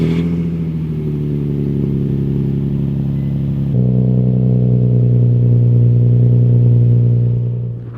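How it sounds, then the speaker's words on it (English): A Nissan 350Z sports car fitted with a new exhaust starts up and idles nearby: a steady, loud, deep engine drone that shifts to a lower, smoother idle partway through, then fades slightly at the end. "we're gonna start her up for the first time"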